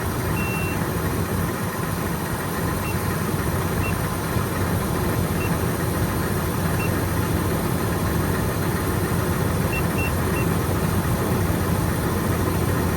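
A car engine idles steadily at close range, a continuous low rumble with no change in pace, while short high beeps sound now and then over it.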